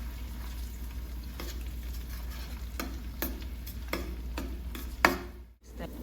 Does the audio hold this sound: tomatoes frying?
yes